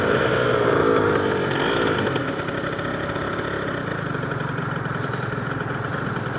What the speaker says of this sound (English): She's idling okay.